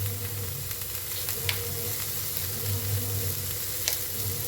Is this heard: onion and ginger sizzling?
yes